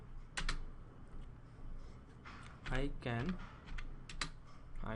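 Keys on a computer keyboard clatter in quick, uneven bursts while a cover letter is typed, with a brief murmur of voice partway through.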